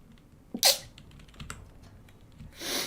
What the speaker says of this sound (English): I have a sneeze.